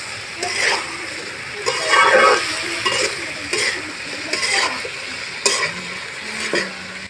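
Mixed vegetables with ginger paste, cumin paste and turmeric sautéing for khichdi, a close, loud sizzle with repeated scraping stirs and clattering of the pan every second or so.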